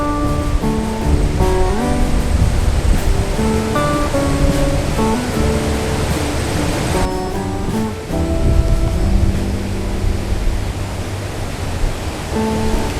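Large, murky river rushing near a waterfall, a loud unbroken roar of water that fills the whole scene at constant strength with no talk.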